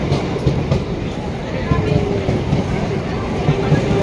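A crowded passenger train runs with a steady broadband rumble and faint rail clatter, loud and continuous throughout, with voices murmuring underneath.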